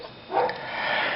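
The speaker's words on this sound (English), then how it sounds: "the dogs are barking in the background" Dogs bark in the background outdoors in France, a short muffled burst of barking at a distance under a steady wash of noise.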